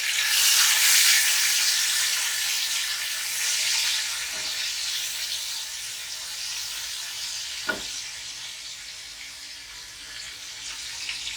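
Green chillies sizzling in hot oil and spices for mutton moti pulao, a steady bright frying hiss that fades slightly over time, with a couple of soft stirring knocks.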